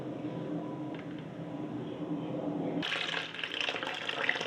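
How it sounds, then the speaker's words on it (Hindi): Water poured into a yogurt bowl to rinse it, a steady running and splashing stream that turns brighter and louder partway through as it fills, close by with no talking. "दही वाले बाउल में ही मैंने पानी डाल के उसको साफ़ कर लिया"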